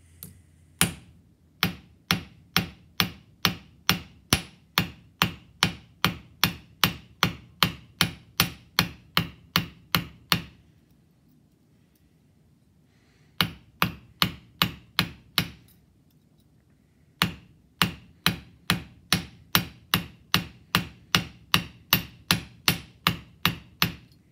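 A cross peen hammer forges metal on an anvil, sharp ringing blows struck in fast, even runs, with two short pauses between bursts of rhythmic strikes.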